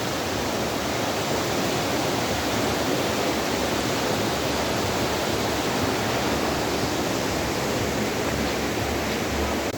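Many streams of water converge at the Sahastradhara river near Dehradun, producing a dense, continuous rushing roar that stays loud and even throughout, with no voices over it.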